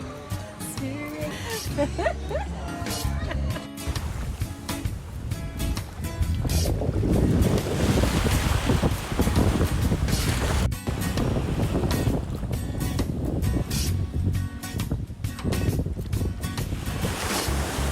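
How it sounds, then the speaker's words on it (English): Wind and sea water surround a boat out on the ocean off Jamaica, a steady broadband wash that swells louder midway and stays close and continuous, with faint voices now and then. "Yeah, we're in the ocean."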